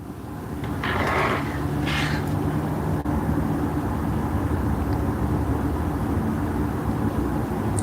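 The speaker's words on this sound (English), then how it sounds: "can you hear those cars?" Cars passing by outside a room, a steady loud low rumble of traffic with a brief higher whoosh early on, no talk.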